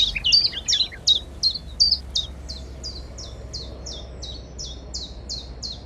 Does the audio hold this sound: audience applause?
no